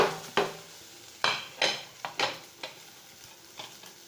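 Boiled potatoes tipped into a pan of frying onions, followed by a spatula stirring. A series of distinct metallic scrapes and clunks sits close over a faint sizzle.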